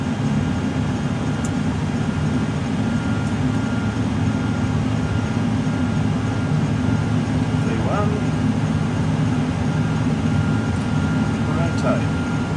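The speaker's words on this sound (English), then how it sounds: "our instructor has the controls and guides us down the runway and through a safe takeoff" A Qantas Boeing 747 flight simulator rolls down the runway for takeoff, with a steady, loud, unbroken roar of engine and cabin noise and faint muffled voices underneath.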